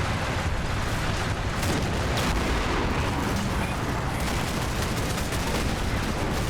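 Dense, continuous gunfire and explosions fill a battle in the video game Combat Mission: Battle for Normandy, rolling and loud without a break, with no talk over it.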